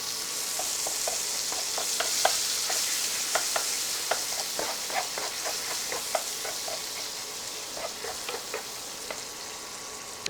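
Ground beef sizzling and frying in melted butter in a pan, a steady close hiss with scattered crackles and pops throughout, no voices.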